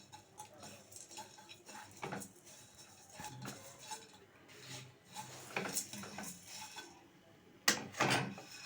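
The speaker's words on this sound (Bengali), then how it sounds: "নামিয়ে গুঁড়ো করে নিচ্ছি" Roasted spices for an amla pickle being ground into powder, heard as close, irregular scraping, clinking and rubbing strokes against a hard vessel, quiet overall with a few sharper knocks near the end.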